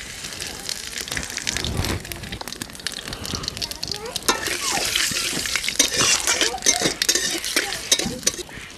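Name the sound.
cumin and bay leaf tempering sizzling in hot oil in a wok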